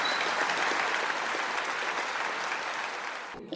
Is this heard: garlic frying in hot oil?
no